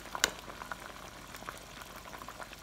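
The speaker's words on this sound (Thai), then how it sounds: "เปลือกส้มเนี่ย ช่วงกำลัง ต้มอยู่นะคะใช้ช้อนนะคะคนเป็นระยะนะคะ" Orange peel boiling in water in a pot: a faint, steady bubbling and simmering hiss with a brief clink near the start, quiet and close, with no voices.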